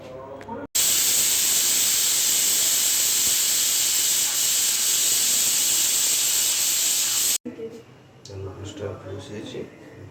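Steam hisses loudly and steadily from a pressure cooker of oil-free chicken stew as it is opened after a single whistle, a continuous broad rush lasting several seconds before cutting off abruptly into quieter kitchen sounds.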